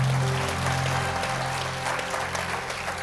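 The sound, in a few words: congregation applauding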